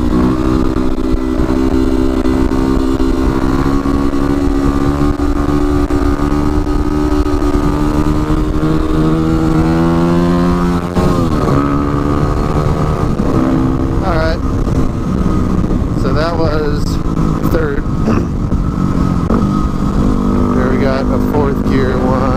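A Kawasaki WR250R supermoto motorcycle doing a wheelie drones steadily, rising and falling in pitch as it revs, with people talking over it.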